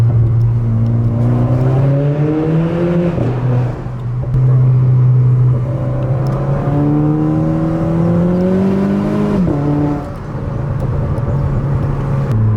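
A Renault Clio MK4 RS engine revs hard on track, pitch climbing through gears with brief dips at shifts, loud and steady without talk.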